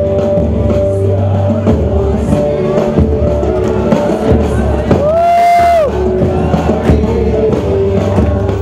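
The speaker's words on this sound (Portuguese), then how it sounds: "Fogos de artifício iluminaram o céu." Fireworks and a cheering crowd at a city's 165th anniversary celebration in Pouso Alegre at midnight, a loud continuous crowd roar with bursts and a rising whistling rocket near the middle.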